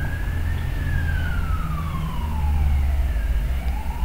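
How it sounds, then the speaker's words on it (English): Police sirens wail outside at a distance, a rising and falling tone sweeping steadily over low traffic rumble, continuous behind an indoor card-making session with no talk. "And sorry about the sirens in the background."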